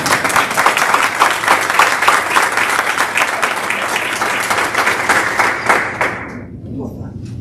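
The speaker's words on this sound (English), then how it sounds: "so go ahead and clap for her" A board meeting audience claps for Jean: loud, close, continuous applause from many hands that holds strongly for about six seconds, then cuts off abruptly, leaving a quieter room tone.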